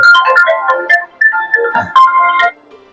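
A melodic electronic phone ringtone plays loudly and close, repeating its tune for a few seconds before cutting off.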